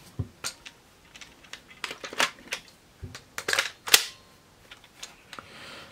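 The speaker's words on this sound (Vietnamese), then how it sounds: "bây giờ là âm thanh tấn công khi mà ở dạng súng" A Kamen Rider Build DX Drill Crusher toy in gun mode fires a series of sharp snapping pops and clicks in irregular bursts, close by, with a brief electronic zap among them.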